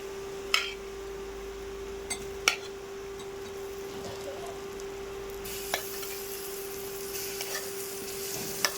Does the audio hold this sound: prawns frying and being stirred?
yes